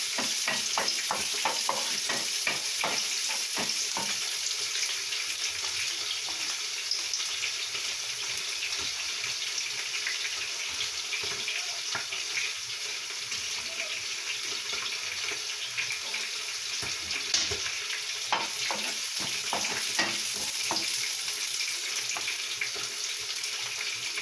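Garlic sizzles steadily in a hot pan while being stirred, with occasional scraping and clinking of the utensil against the pan. The frying sound is constant and close throughout, with no talking.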